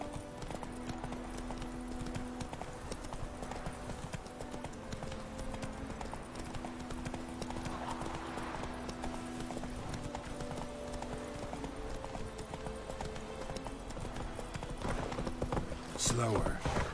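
Roach, a horse in The Witcher 3: Wild Hunt, trots with steady, rhythmic hoof clip-clops that continue throughout, heard alongside game music and spoken dialogue, with a louder burst near the end.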